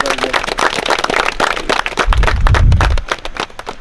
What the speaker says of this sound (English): give yourself a round of applause, man